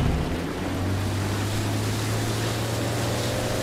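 A motorboat engine in the video game Far Cry 5 drones steadily and loudly under water and wind noise, a constant low hum for the whole stretch.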